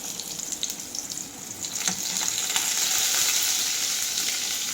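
Mudfish fry in hot oil in a pan, a close, steady sizzle with crackling spatter that grows louder partway through, with no voices.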